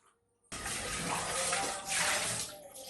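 Tap water gushing steadily into a pressure cooker holding beef tripe, starting abruptly after a brief quiet and running loud and close for a few seconds.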